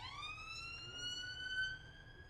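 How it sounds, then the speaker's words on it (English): A siren in The Banner Saga, a steady rising tone with rich harmonics that swells slightly and holds, sounding alone over a low rumbling bed. "There's a siren."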